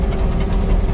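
A JCB 260T skid steer with a 74-horsepower engine, working a CID tree reaper attachment, runs with a steady, loud, low engine drone, heard close up without talk.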